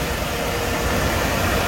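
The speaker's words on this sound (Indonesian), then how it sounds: "Sehalus apa mesin inline 3200 cc ya." Smooth idle of an inline 3200 cc car engine in a 1990s vehicle with a newly replaced fan belt, filters and fuel pump, a steady even hum running alone from start to finish without variation.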